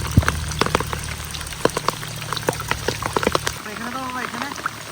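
Rain patters in scattered drops onto water and surfaces during a monsoon fishing outing, a light irregular ticking that stays close, with a steady low hum under the first part that cuts out near the end.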